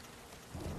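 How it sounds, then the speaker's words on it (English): Rain with a low thunder rumble in the PS4 video game Metal Gear Solid V: Ground Zeroes, a quiet, constant hiss of rainfall with a deeper roll swelling in over the second half. "rain effects are always quite cool, and it's always something that people want to show off in video games"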